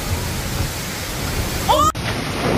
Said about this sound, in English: In rain like this. It's actually like a monsoon.